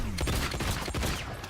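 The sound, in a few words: gunshots in the video game Mortal Kombat 1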